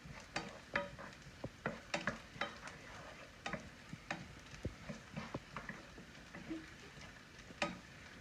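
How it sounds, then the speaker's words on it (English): Garlic heating in olive oil in a pan while being stirred, a soft steady sizzle with repeated light clicks and scrapes of the utensil against the pan, fairly quiet and close, with no talking. "Just heating up the garlic at this point."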